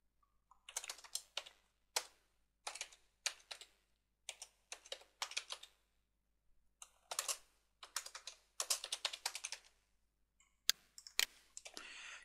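Close, crisp keystrokes on a computer keyboard come in quick bursts of clicking separated by short pauses, with no voices.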